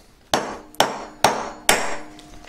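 Four sharp hammer taps on a claw setting of a moissanite four-claw earring, evenly spaced metallic strikes, close and clear, with no speech.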